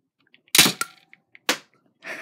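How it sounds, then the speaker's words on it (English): Boomco Far Shot toy blaster firing a Boomco dart: a sharp close snap followed by a quick clatter, then a second loud crack and a brief rattle, with small clicks between. "Now the Boomco Far Shot with the Boomco dart"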